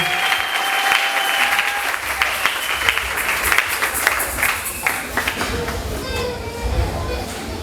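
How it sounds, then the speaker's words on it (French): A church congregation bursts into sustained applause, dense clapping from many hands with some voices and a child mixed in, loud and close throughout. "Acclamons pour le Seigneur."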